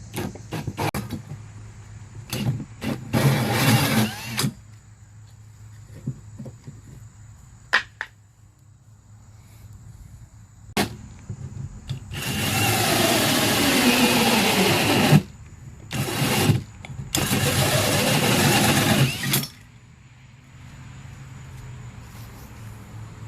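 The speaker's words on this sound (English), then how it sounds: "let's go ahead and get these drilled real fast." A power drill boring holes into wooden cornhole boards, with short whirring bursts early on, then two long, loud grinding runs of the bit cutting through the wood, separated by a brief pause, close up.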